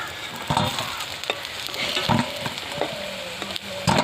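Cauliflower pakoras frying in hot oil give a steady, close sizzle, with a few dull knocks from a ladle or spoon scattered through.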